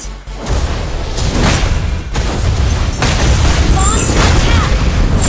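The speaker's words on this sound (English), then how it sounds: "Your team destroyed a turret." A turret blows up in the video game Phoveus, giving loud, rumbling blasts and booms that overlap in a dense, continuous roar of battle effects.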